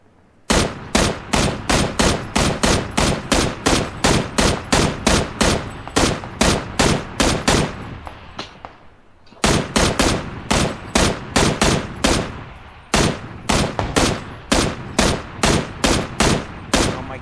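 A UMP submachine gun firing in PUBG, loud and close, in long rapid bursts of evenly spaced shots, a brief pause in the middle, then more sustained bursts.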